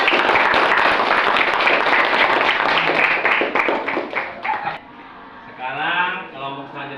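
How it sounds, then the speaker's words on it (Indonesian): Group applause in a classroom after a student team presents a poster: dense clapping for about four seconds that then tapers off, followed by a teacher speaking. "Ya, yang lain tepuk tangan."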